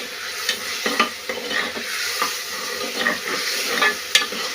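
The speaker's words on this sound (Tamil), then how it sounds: "நல்லா ஃப்ரை பண்ணிக்கோங்க" Ingredients for dal rice frying and being stirred in a pan, a bright steady sizzle broken by repeated scraping strokes and a few sharp clicks, close and fairly loud.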